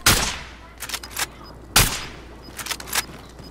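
Gunfire in Call of Duty: Modern Warfare Warzone, several sharp bursts of shots, some close and loud, others quicker and lighter, spread across a few seconds.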